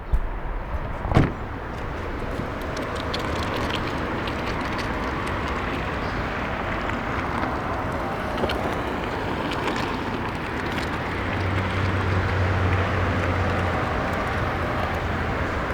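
A 2021 Honda e Advance electric car drives in a tight circle, giving a soft, steady whir with tire and wind noise, after an opening thump like a door closing.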